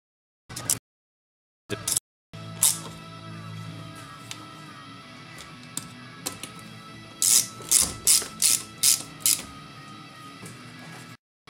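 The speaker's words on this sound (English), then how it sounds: "Quickly get the bolts in, get them all tightened down." Socket ratchet clicking as bolts on a Peerless transmission gearbox are run in and tightened, with short bursts of quick clicks, including a cluster of sharp ratcheting runs near the end, close and fairly clear.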